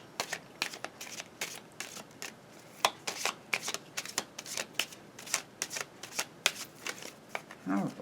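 Tarot cards being shuffled by hand, a long run of crisp riffling bursts at an uneven, quick rhythm, close and fairly quiet, with no talking.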